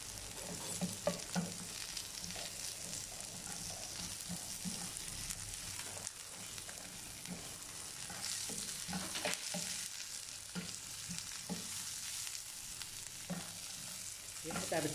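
Falafel sizzles steadily in hot oil in a pan while being stirred, with a continuous close crackle broken by occasional scraping and clinking and no voices.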